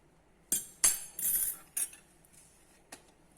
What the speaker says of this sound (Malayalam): ഫോർക്ക് കൊണ്ട് ഇങ്ങനെ ഇടും.